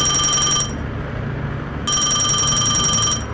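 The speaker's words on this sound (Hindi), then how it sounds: "तभी तुरंत धर्मू को घर से कॉल आ जाता है" A telephone rings loudly in two electronic bursts separated by a short pause, with no other sounds around it.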